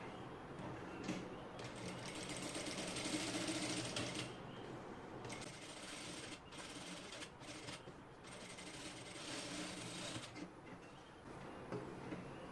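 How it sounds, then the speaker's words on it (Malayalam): A sewing machine stitching fabric around a dress, running in a fast continuous mechanical whir with brief pauses and restarts, close and fairly quiet, without speech. "ഇനി നമുക്കിത് റൗണ്ടായിട്ട് സ്റ്റിച്ച് ചെയ്തെടുക്കാം"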